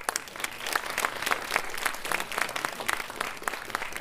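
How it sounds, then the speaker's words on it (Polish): Warm, continuous applause from an audience at a sports gala, honouring four women basketball players, with individual claps standing out in a fairly even, lively rhythm. "Wielkie, a tak naprawdę nawet poczwórne brawa raz jeszcze, proszę państwa, dla wszystkich czterech dam"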